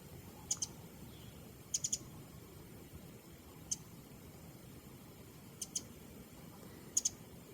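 A small bird in a spring garden gives short, sharp high chirps in scattered single and clustered bursts, faint against quiet background ambience.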